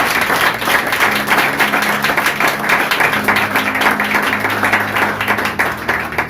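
A church congregation breaks into steady, loud applause, dense continuous clapping from many hands filling the room throughout.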